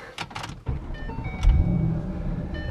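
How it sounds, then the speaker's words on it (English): A Shelby GT car is driven back into a garage, its engine rumbling low and steady at close range, swelling briefly midway through, with a short whirring sound near the start. "All right, so let's put this car back inside."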